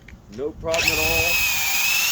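Metabo HPT 18V DV18DC cordless hammer drill running at speed 2, with a brief voice at the start before a steady, loud high-pitched whine that holds through the rest.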